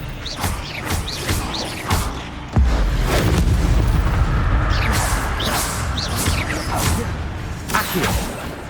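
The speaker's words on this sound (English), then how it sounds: "Expelliarmus!" In Hogwarts Legacy on PS5, the Expelliarmus spell is cast in combat, with whooshes, a heavy boom and crashing impacts over rumbling game noise, alone with no voices.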